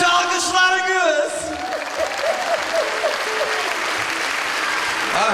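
Audience applause at an Azerbaijani wedding comedy performance: dense, steady clapping from a crowd throughout, with a voice and a tonal sound riding over it near the start.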